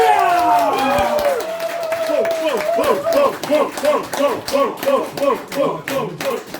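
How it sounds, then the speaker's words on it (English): A comedy club crowd at a stand-up show cheers and whoops, then settles into loud rhythmic clapping and foot stamping with a steady beat. A voice rises over the noise at the start. "Please stamp your feet, clap your hands, and welcome to the stage the one, the only Paul Stour!"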